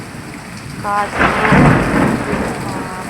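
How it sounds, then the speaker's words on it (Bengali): Heavy storm rain pours steadily while a deep roll of thunder swells and rumbles through the middle, loud and close, then eases back into the downpour. "বৃষ্টি, ঝড় ও বজ্র বিদ্যুৎ সহ একেবারে ওয়েদারটাও উলটপালট হয়ে গেল।"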